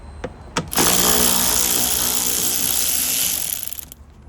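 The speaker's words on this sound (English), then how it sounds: "I'm gonna take a 10mm. This bolt here and the other one on the other side as well." A ratchet wrench with a 10mm socket removing a bolt from the rear bumper cover of a 2010-2012 Lexus HS 250h, a few short clicks and then a loud, continuous fast buzzing ratchet run up close that fades at the end.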